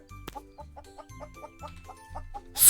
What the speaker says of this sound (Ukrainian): Курочка, курочка, йди сюди. Так, тварини, курочка.